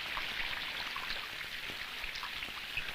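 Steady rain pours down on a leaking house, a dense, even patter of drops that continues without a break and with no voices.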